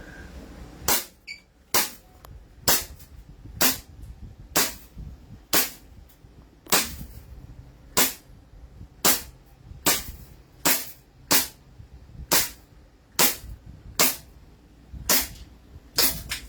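A Trex H-Capa blaster fires about fifteen sharp, loud cracks in a steady rhythm roughly one per second, close by, with faint background noise between shots.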